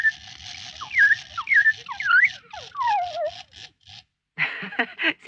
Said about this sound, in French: C'est un automate. Pour qu'il siffle, il faut remonter le ressort.